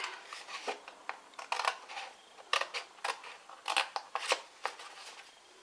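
Paper strips for a gift card explosion box are cut with scissors, giving a series of close, crisp snips that come in small clusters with short pauses between them.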